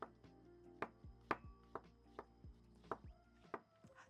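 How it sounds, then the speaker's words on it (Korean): A knife julienning vegetables on a cutting board for seaweed soup, sharp distinct chops in an uneven rhythm of about a dozen strokes, close and fairly quiet, with no talk. "제가 이게 지금 우리 딸이 이거 채 써는 동안 설명 몇 가지 했고요"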